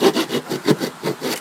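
A hand saw re-cuts wood while building a nail-free stool, about seven rhythmic back-and-forth rasping strokes, close and fairly loud, with no talking.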